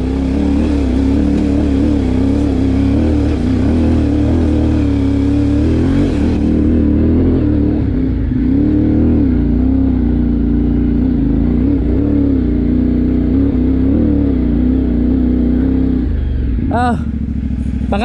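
Motorcycle engine riding off-road on a mountain trail in Kibungan, Benguet, droning steadily with shifting revs throughout, with people talking over it.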